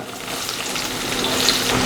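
Onion is added to hot oil with garlic in a wok, and a steady, close sizzle of frying fills the moment without any talk.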